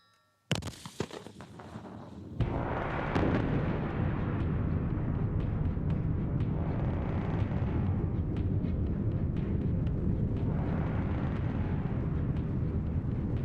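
An avalanche control gun fires a shell with a sharp blast, and a sustained heavy rumble builds and rolls on for many seconds as a snow avalanche slides down the mountain path.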